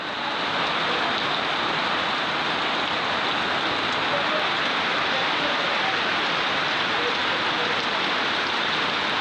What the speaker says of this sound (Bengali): দেখো কত জোরে বৃষ্টি পড়ছে।